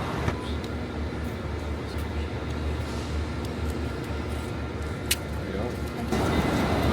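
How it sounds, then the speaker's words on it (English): A train travelling toward Dublin produces a continuous rolling rumble with occasional clicks and rattles from inside the carriage, with a brief louder clack and rising noise near the end, while speech is faintly present. "train is the way to travel"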